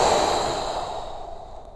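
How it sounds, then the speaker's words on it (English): A deep, slow exhale through the nose or mouth during a golf stretching exercise, heard as a soft, breathy whoosh that gradually fades away, close and alone. "Deep breath out."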